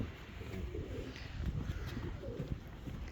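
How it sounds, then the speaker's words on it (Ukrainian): Rock pigeons coo softly and steadily, their low murmuring calls overlapping against a steady hum of wind and background noise. "отакі сизі голуби"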